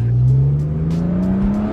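A BMW E36 M3 engine revs loud and close, its low growl climbing steadily in pitch as the throttle holds, with no voices over it.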